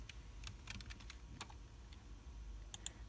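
Typing on a computer keyboard while setting up Windowsfx on a Raspberry Pi 4: scattered sharp key clicks in short irregular bursts, close and fairly quiet over a soft steady background hum, no voices.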